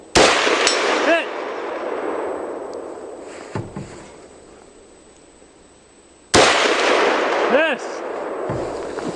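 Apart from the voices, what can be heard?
gunshots from a .308 AR rifle at a shooting range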